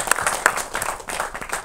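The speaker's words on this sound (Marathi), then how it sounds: "एकदा त्यांच्यासाठी पण आपण जोरदार टाळ्या वाजवूया." Audience clapping at a Marathi film trailer launch event for the movie 'Y', a brief burst of applause from a seated crowd, steady and moderately loud with scattered individual claps standing out.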